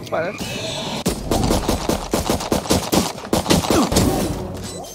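Gunfire in the tactical shooter Valorant: rapid bursts of shots crackling in quick succession, loud and close, with a player's voice speaking over parts of the exchange.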